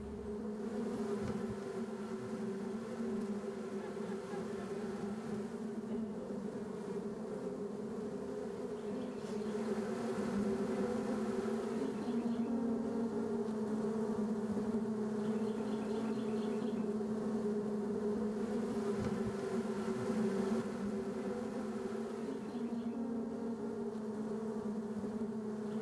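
Bees buzz in a steady, dense drone close by, a continuous hum from many insects that holds for the whole stretch with only slight rises and dips, with no voices.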